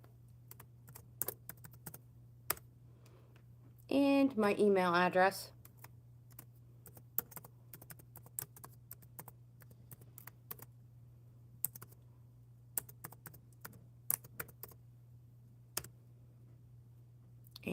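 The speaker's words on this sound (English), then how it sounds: "Typing hello in the chat." Scattered keyboard clicks tap away at an uneven pace under a low steady hum, with a short burst of speech partway through.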